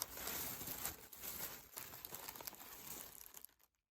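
Crisp, steady crinkling and rustling of tissue paper being unwrapped from a package of crystal beads, close and continuous for a few seconds before stopping abruptly.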